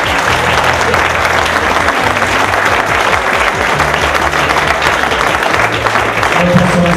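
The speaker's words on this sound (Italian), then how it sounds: "Io vi chiedo un applauso per questi due grandi." Loud, sustained audience applause at a memorial trophy ceremony in Italy, dense continuous clapping from a sizable crowd with low hum and some voices underneath throughout.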